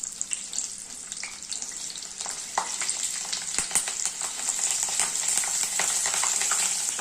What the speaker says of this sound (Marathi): तर मिरची हवेच 4-5 मिरच्या तळून घ्यायच्या.